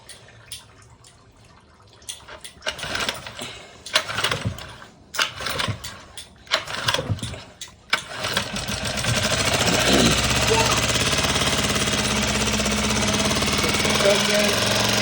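A Hangkai 6.5 four-stroke outboard engine being broken in: mechanical rattling and knocking in bursts, then settling into a steady, dense running drone, with some speech at the start.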